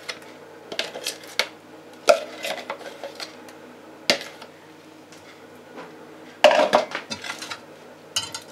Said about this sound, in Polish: musimy wszystko przemieszać, żeby się ta sałatka z tym majonezem nam dobrze, z tym dipem dobrze wymieszała